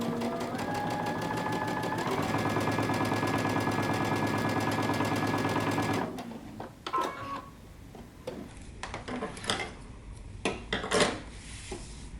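A sewing machine runs steadily for about six seconds, stitching a 3/8-inch seam line across the bottom of a Simplicity 8060 jumpsuit, then stops and gives way to scattered clicks and handling noises.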